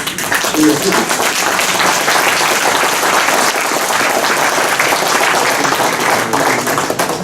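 A general meeting audience claps in sustained, dense applause to unanimously approve the agenda, loud and steady throughout at close range, with a voice briefly heard near the start.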